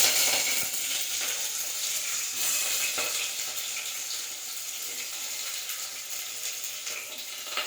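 Onions fry in hot oil in a pressure cooker, giving a steady, bright, hissing sizzle that lasts the whole stretch at close range with no talk.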